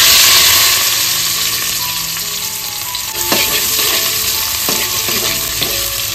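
Sliced onions for chicken biryani fry loudly in hot oil, giving a dense continuous sizzle, while a spoon scrapes and stirs through the pan in occasional clinking strokes.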